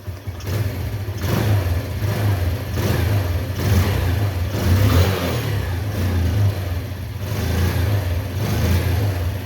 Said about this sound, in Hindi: मैं बाइक का एक्सीलरेटर आपको चेक करवा लेता हूँ